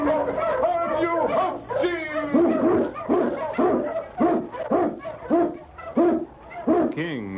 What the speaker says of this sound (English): King, the swiftest, strongest of Eskimo lead dogs, blazes the trail through storm and snow for Sergeant Preston